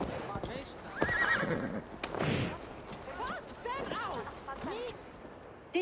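A horse whinnies loudly among hoofbeats and bursts of action in the video game Assassin's Creed Valhalla, with a voice speaking briefly over the scene.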